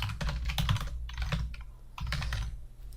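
A computer keyboard typing out a website domain name, with quick bursts of fairly close keystrokes separated by short pauses.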